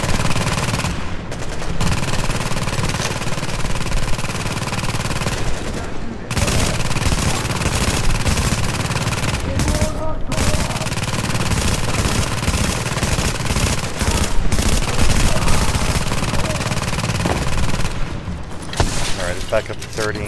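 Sustained automatic gunfire at a turret in The Division, loud and dense bursts with brief pauses, layered under a player talking.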